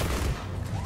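Turrets fire in a sci-fi shooter game, a dense rolling fusillade of rapid gunfire heard from some distance, steady and continuous throughout with no talking.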